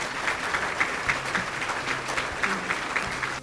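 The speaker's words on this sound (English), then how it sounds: "Give them a great round of applause." Applause from an audience at a museum reopening and dedication celebration, a steady wash of many hands clapping at moderate volume, with no talk over it.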